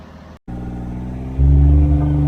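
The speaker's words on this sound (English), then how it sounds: "I'm pretty sure driving a tank would be quieter than driving this Gator. It's very loud in here." A loud John Deere Gator utility vehicle engine rumbles close by while driving, a steady low drone that briefly cuts out, then swells louder as the engine revs up.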